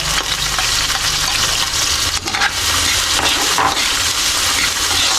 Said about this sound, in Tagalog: Tapos mag-iisa tayo ng bawang sibuyas para sa ginataan